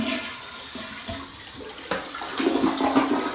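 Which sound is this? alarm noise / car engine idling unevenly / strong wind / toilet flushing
toilet flushing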